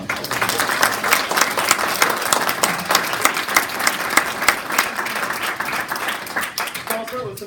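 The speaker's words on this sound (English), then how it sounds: "Round of applause." An audience breaks into applause, dense, continuous clapping with distinct sharp claps standing out, moderately loud and sustained for several seconds, with faint crowd murmur underneath.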